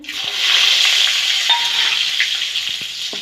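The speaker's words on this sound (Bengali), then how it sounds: "দেখো কালো জিরে ফোড়ন দিয়ে দিচ্ছে" Nigella seeds crackle and sizzle in hot oil in a black iron wok, a loud steady frying hiss with small pops, close by and without talk.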